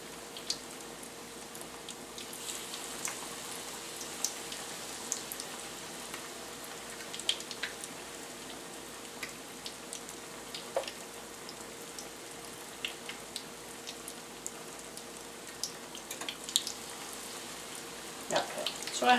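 Chicken pieces for lemon chicken frying in a pan, a faint, even crackle with scattered small pops throughout, and no talking.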